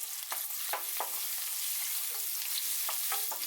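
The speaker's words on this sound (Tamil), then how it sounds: "அப்புறமா 3 பச்சை மிளகாய் சேர்த்து இதை லைட்டாக வதக்கிட்டு" Garlic, ginger and green chillies sauté in hot oil in a pan: a steady, bright sizzle runs throughout, broken by several quick scraping stirs, with no voices.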